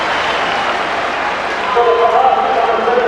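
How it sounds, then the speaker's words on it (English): Hearts football supporters in a stadium applaud and roar after a goal, a dense, steady wash of crowd noise that swells slightly toward the end, with a commentator's voice faintly over it. "The Hearts fans applauding"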